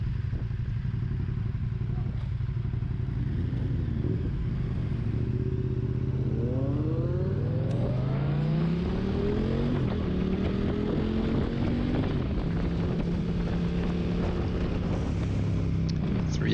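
KTM Super Duke 1290 R motorcycles on a race track, engines droning steadily, then several bikes rev and accelerate with rising and falling pitch sweeps, close and loud throughout.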